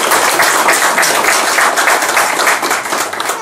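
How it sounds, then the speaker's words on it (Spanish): An audience at a Lions Club officer installation ceremony claps steadily, with dense, loud applause that holds evenly throughout and no talking over it. "Un aplauso."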